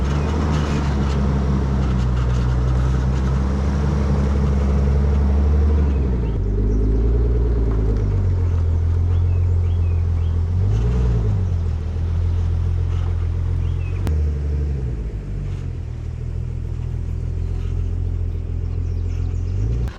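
A Nissan 300ZX turbo with muffler-only exhaust and no cats or resonators burbles with a deep, heavy rumble up close, swelling in a few brief revs before settling back to a throaty idle.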